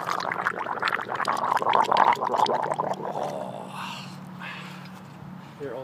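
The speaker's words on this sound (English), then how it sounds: "Doesn't affect his gargling." A man gargles a drink for a gargle shot, a loud, bubbling throaty rattle up close lasting a few seconds, then fading into softer room noise.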